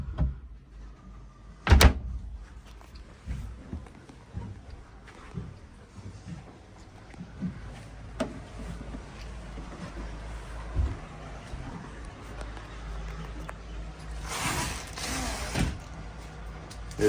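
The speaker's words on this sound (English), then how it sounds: "There's your sliding door, that's your screen door, and there's your second door." Sliding door, screen door and second door on a 2021 Tiara 43 LE yacht cabin, heard as a sharp thud near the start, scattered soft knocks and rumble, then a longer sliding rush near the end.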